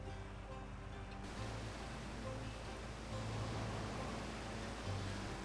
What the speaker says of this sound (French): Et aussi l'eau monte.